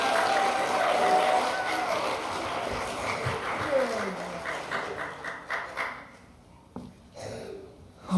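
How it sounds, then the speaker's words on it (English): A church audience applauds an award winner coming up to receive her award. Sustained clapping is mixed with some voices and fades into scattered claps near the end. "let's give her a round of applause"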